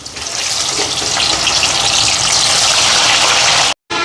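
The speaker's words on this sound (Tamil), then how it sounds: "வாழைக்காயை பொரிக்க போடுவோம்." Loud, steady hiss and crackle of plantain deep frying in hot oil, continuous until it cuts off abruptly near the end.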